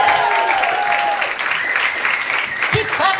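Loud, dense applause fills the room at a comedy show as a performer comes on stage. Voices and a brief shout sound over the clapping.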